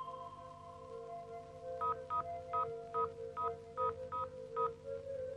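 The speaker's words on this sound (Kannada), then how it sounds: "ಫೋನ್ ಮಾಡ್ಕೊಡ್ರಿ" A telephone number is dialed on a keypad, a quick sequence of about ten touch-tone beeps in an uneven rhythm over a faint steady hum in a tense office scene.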